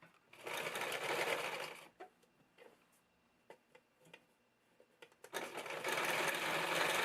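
Sewing machine stitching a shirt hem, two loud bursts of rapid mechanical whirring separated by a pause filled with soft clicks and ticks of the fabric being handled.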